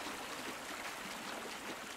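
A waterfall in the medieval survival game Medieval Dynasty gives off a steady, even rushing wash of falling water, soft and continuous with no talking over it.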